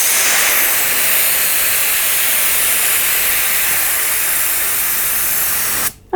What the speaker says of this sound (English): So just use a bit of helium to do this. I'm just going to use a trigger valve and pop that inside the nozzle